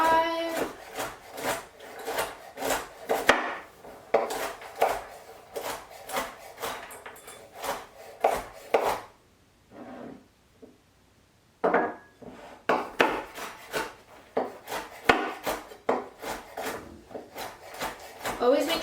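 A knife chopping food on a cutting board in a home kitchen, with steady runs of crisp, close taps broken by a brief quiet pause before the chopping resumes.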